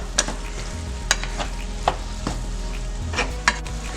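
Broccoli and mushroom pasta being stirred in a pan gives close scraping and clattering strokes with sharp utensil clicks over a soft sizzle, in an irregular rhythm, with no speech.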